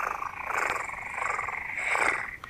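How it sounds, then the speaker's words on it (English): A continuous low, rumbling purr with a steady rhythmic pulse, close and fairly loud, with no other sounds. "a purr is a cat's way of singing"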